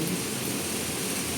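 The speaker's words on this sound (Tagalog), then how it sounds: "heavy rain." Heavy rain pours in Hong Kong, a dense, steady hiss of downpour filling the whole moment without a break and with no voices.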